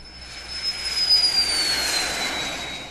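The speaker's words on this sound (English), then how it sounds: "The Phenom 100 EV is the essence of private flight, bringing 21st century innovation to an entry-level jet." Embraer Phenom 100 EV entry-level private jet: a loud jet engine roar with a thin high whine, swelling and then holding steady as the aircraft passes nearby.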